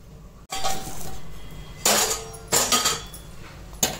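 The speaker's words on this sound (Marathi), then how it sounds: "झाकण ठेवते याच्यावरती." Metal lid set onto a cooking pot of wheat chik on the stove, a few sharp clanking knocks and clinks in quick separate bursts against quiet kitchen background.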